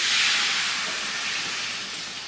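Water hits a hot pan of pumpkin-stem, prawn and potato curry with onion, tomato and dried chilli, setting off a loud, steady hiss that fades slightly over two seconds.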